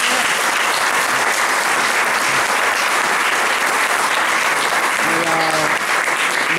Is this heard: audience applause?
yes